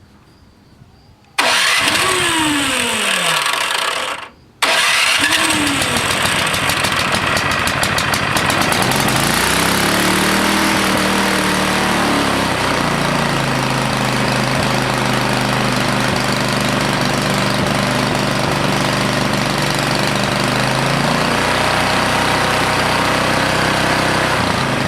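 Craftsman 24 snowblower engine with a governor bypass cranks on its electric starter, stalls briefly, then catches and runs steadily at a loud, close rumble.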